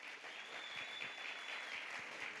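A church congregation at a Sunday celebration service claps steadily, a dense wash of many hands applauding for the whole stretch, heard from a little distance without talk.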